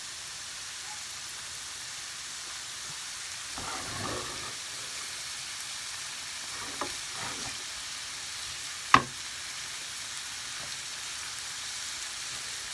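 Seafood for paella fries in a pan, seasoned with salt, pepper, fish seasoning and chili powder. The sizzle is soft and steady, with a few brief spatters and one sharper crackle partway through.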